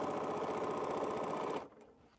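A sewing machine runs steadily while stitching a quilt block, a close, even mechanical whir that stops abruptly near the end, followed by quiet.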